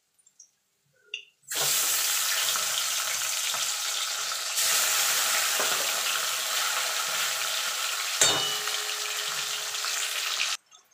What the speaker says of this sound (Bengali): এইভাবে আমি বাকি মাছগুলো ভেজে নেব।